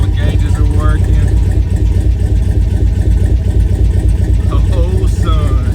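A cammed LSX 6.0 V8 in an LS-swapped G-body with a 4L80E transmission runs loud and close on its first start, with a choppy, lumpy idle pulsing steadily while people talk over it.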